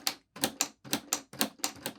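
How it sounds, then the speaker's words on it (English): Rapid, crisp mechanical clacks of a LEGO Ideas 21327 typewriter's keys, struck in quick bursts of two or three with short pauses between, each key flipping up an arm that strikes; close and clear with no voices. "as you strike a key, you can see that this arm flips up and strikes this area here"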